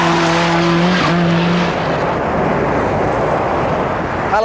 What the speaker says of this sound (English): a not so humble Ford Sierra with 500 horsepower to play with